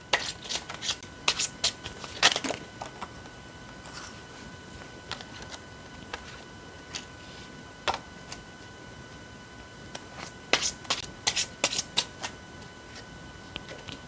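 Tarot cards shuffled in bursts of crisp riffling and flicking, clustered near the start, around eight seconds and again late on, with quieter soft handling and a faint steady hum between bursts; close and alone, no voices.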